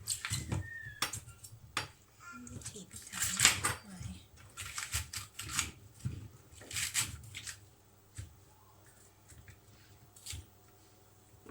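A knife chops Japanese knotweed stems on a cutting board in a series of crisp, irregular cuts and knocks, clustered in bursts with pauses between them and quiet background sound.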